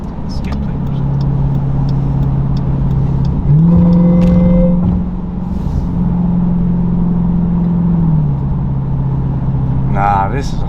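A 2023 Dodge Durango Hellcat with a muffler delete drones loudly from inside the cabin, revs swelling and dropping through a downshift with a faint whine, while people talk over it.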